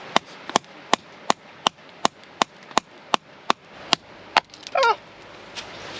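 Hammer strikes break a sapphire specimen off rock, a run of about a dozen sharp, evenly spaced metallic clinks, followed by a short scraping rattle and a faint final tap.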